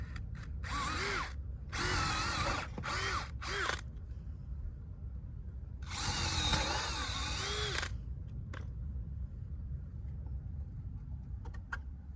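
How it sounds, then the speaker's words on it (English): A power drill bores into timber polytunnel base rails, whirring in several short bursts in quick succession, then one longer run, with low background noise between them. "You just have to drill each side of the poles and then fit the bolts through."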